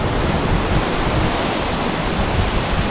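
Banyu Tibo in Pacitan, East Java, where river water falls straight onto the beach and into the sea, producing a steady, dense roar of rushing water and surf that stays loud and even throughout, with no voices.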